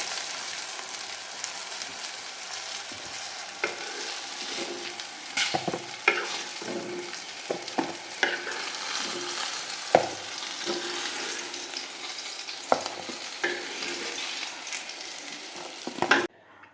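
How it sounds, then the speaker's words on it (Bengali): Rui fish crackles and sizzles in hot oil while a spatula scrapes and taps the pan now and then, close and fairly loud. "বন্ধুরা আমার মাছ ভাজা হয়ে গেছে এবার আমি মাছগুলো সব তুলে রাখছি"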